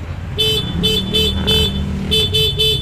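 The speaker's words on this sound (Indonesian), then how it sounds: "kita pencet klakson itu klakson standar yang bunyi" A standard horn on a Honda Vario scooter beeps seven times in short bursts, loud and near, over a low idling engine.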